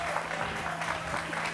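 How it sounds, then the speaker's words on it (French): Dense audience applause rises steadily from a crowd, a continuous wash of clapping with no voices standing out. "On peut applaudir pour les baoulés, s'il vous plaît."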